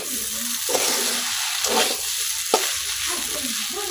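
Vegetable noodles with two or three kinds of vegetables and coriander leaves frying in a pan, giving a steady close sizzle broken by occasional scraping stir strokes, with no voices.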